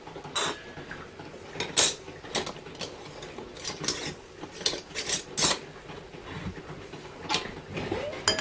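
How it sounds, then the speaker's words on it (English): Glass canning jar set into a pressure canner while canning pinto beans, a series of sharp clinks and clatters of glass and metal at irregular intervals, close and fairly quiet, with faint handling noise between. "We've got our last jar going in the canner"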